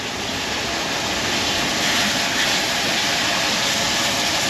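A hose sprays water to rinse spilled coolant off a Jeep Grand Cherokee 4.0 engine, a loud, continuous broadband rush with no pauses or voices.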